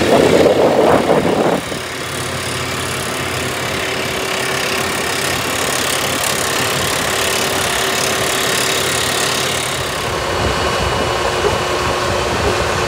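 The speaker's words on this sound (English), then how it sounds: "here we are watching the D560 in rod changing application" A Weiler D560 drill rig with a 375-horsepower engine, 550 cfm compressor and 38-horsepower drifter, running steadily during rod changing, a loud continuous engine drone with a brief shift in tone early on.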